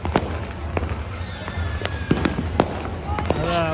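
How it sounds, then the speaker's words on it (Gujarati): Scattered firecracker bangs go off at the Uttarayan festival, irregular sharp pops both near and distant, heard under steady outdoor background noise with people talking. "જો તો બધી બાજુ ફટાક્યા ફૂટવાનું થઈ ગયું છે ચાલુ"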